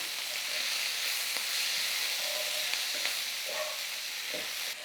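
Onions and green chillies frying in reused oil in a pot on low heat, a steady soft sizzle with a few light stirring knocks.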